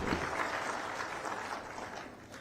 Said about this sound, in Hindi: ताली बजावे करो